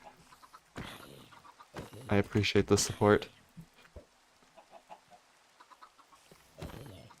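Minecraft chickens clucking in a horror mod, a burst of short game-animal clucks in the middle, with a person talking briefly before and after.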